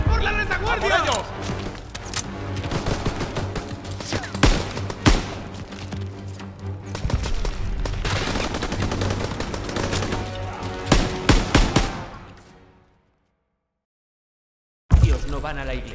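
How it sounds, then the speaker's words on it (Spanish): Machine gun fire from a first-floor position in Call of Duty WW2, dense sustained automatic bursts with shouting voices over battle noise, then it cuts to silence before a final sharp blast. "¡Ametralladora en el primer piso!"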